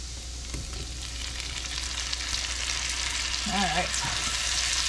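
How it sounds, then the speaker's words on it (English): Artichokes sizzle steadily in a pan with butter and spices, a constant bright frying hiss with occasional stirring scrapes, while a voice speaks briefly over it. "we're going to add in the artichokes, and we're going to cook that, stirring occasionally for about 2 to 3 minutes"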